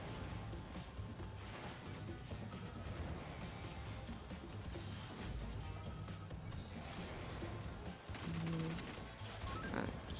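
Rapid turret gunfire rattles through a busy Agent Intercept mobile game scene, dense bursts of shots and crashing impacts running nearly continuously with a heavier smash near the end.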